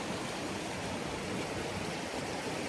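Cold mountain stream in Ladakh rushing steadily over rocks, a dense, continuous broadband wash of flowing water, close and loud with no pauses and no voices.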